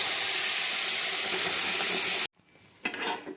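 Banana paste hitting hot ghee in a pan gives a loud, steady sizzle that cuts off abruptly, followed by a short quiet gap and a softer stirring scrape.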